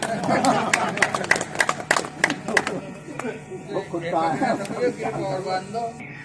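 An audience at a village poetry gathering (kavi sammelan) claps in a burst of sharp hand claps amid chatter, then the applause fades and a voice carries on speaking.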